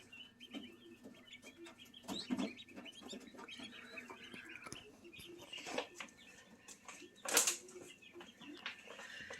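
Young growing chickens clucking and chirping intermittently, soft scattered calls with a few louder bursts and a sharp high peep near the end, over a quiet background.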